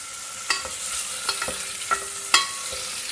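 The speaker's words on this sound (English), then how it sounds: "First, in a pan, heat a teaspoon of ghee. Add the paneer cubes." Paneer cubes fry in hot ghee in a pan with a steady close sizzle, punctuated by several sharp stirring clinks and scrapes, with no voices.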